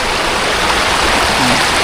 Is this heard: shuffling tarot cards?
no